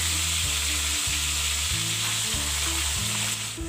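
Chicken pieces frying in hot cooking oil for pansit miki, giving a loud, steady, continuous sizzle throughout.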